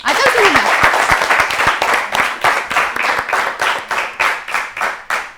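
Audience applause at a televised children's talent show, a loud burst of clapping from a close crowd that settles into a steady rhythmic clap, with a short voice at the start.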